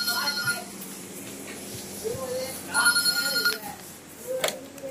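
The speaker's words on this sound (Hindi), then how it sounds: "अरे यार ये फोन परेशान करता रहता है।" An office telephone rings in short repeated electronic bursts, moderately loud and close, with people talking over it in the room.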